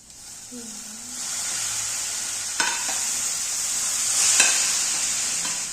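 Noodles drop into a hot pan and fry with a steady close sizzle, broken by a few scraping stirs and clinks of a utensil against the pan.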